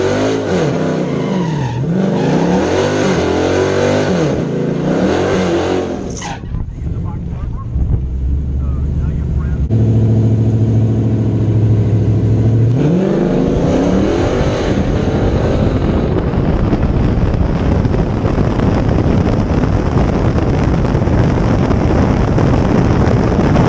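Hellcat and a 392-swapped R/T muscle car accelerating hard in a drag race, a loud continuous roar of engines with shifts and wind buffeting, staying strong and close throughout.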